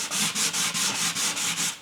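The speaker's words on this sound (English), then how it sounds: "We'll touch up on the sanding." Hand sanding on wood while touching up around an acoustic guitar bridge: a steady rhythm of rasping back-and-forth strokes, about eight of them, close and moderately loud with nothing else behind.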